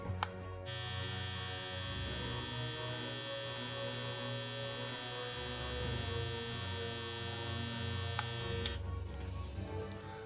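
A Babyliss Pro Skeleton FX replica hair trimmer, fully charged, runs with a steady electric buzz and strong motor hum, close and continuous from start to finish with no talk.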